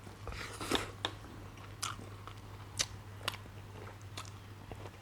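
Crunchy, sweet dates are bitten and chewed close to the microphone. Quiet, crisp crunches come every second or so over a faint, steady low hum.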